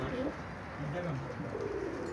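Pigeons coo softly in a few low, rolling calls over a steady outdoor hiss, faint and somewhat distant as the birds fly and land.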